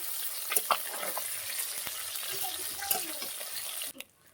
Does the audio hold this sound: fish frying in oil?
yes